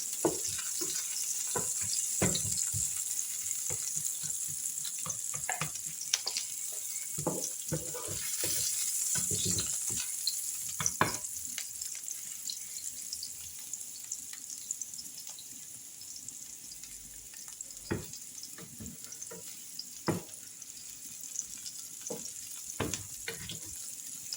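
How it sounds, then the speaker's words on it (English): Onions sautéing in a pan for breakfast tortillas, a steady close sizzle with frequent scraping and stirring knocks from a utensil, continuous and moderately loud. "I'm going to allow my onions to saute."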